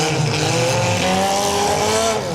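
Mini cars battling in a demolition derby down to the last runner, engines roaring loud and steady with tire squeal and skidding throughout, no talk.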